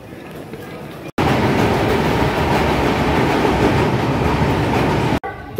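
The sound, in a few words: train departing and running on rails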